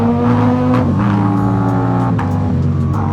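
A motorcycle engine revs loud and close, its pitch wavering and dipping as it sputters and stumbles over about three seconds, with no one speaking.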